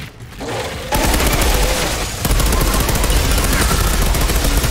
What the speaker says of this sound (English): Mantap sih submachine gun ini.